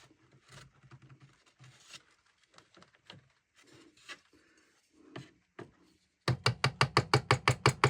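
Wide chisel paring spruce-free soundboard wood on a 7-string lyre clamped down, with scattered scrapes and knocks, then a fast run of about a dozen sharp, loud, evenly spaced rasping strokes close by, no voices.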